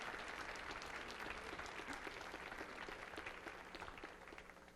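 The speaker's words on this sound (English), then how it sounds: "please, a round of applause for our chef" At a Nordic cuisine event on a stage, the audience applauds the chef with a dense, even wash of clapping, heard faintly and steadily throughout without speech.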